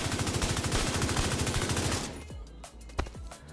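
Automatic gunfire in The Division 2 rattles in a fast, loud continuous burst for about two seconds, followed by a few scattered single shots.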